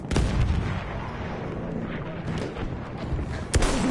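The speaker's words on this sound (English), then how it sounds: "There's a machine gun!" Machine gun fire in Battlefield 1 rattles in bursts alongside heavy booming explosions, loud and chaotic, with a player's voice briefly heard over the battle.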